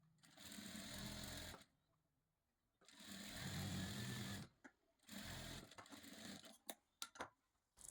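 A sewing machine stitches sleeve piping in three sustained runs of steady motor whirring, separated by quiet pauses, followed by a few short clicking bursts as the fabric is adjusted.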